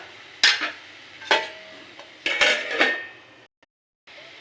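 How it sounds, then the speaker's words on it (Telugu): Metal clanks and scrapes of a lid being fitted onto a cooking pot of masala raw banana curry, three or four sharp close knocks followed by a brief silence. "ఇప్పుడు మనం మూత అనేది పెట్టేసుకుందాం"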